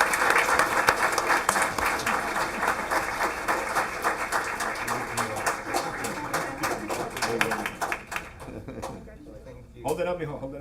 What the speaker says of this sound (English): if we can please join in giving him a big round of applause